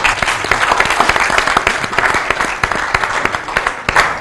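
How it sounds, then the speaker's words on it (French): Studio audience on a French-language quiz show bursting into loud, sustained applause, dense clapping for a few seconds with no talk over it. "On applaudit."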